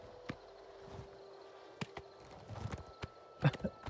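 A horse's hooves in the video game Oblivion Remastered, sparse quiet clip-clops spaced irregularly as the horse walks slowly, with a few louder thuds near the end over a faint steady background hum.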